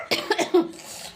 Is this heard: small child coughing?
yes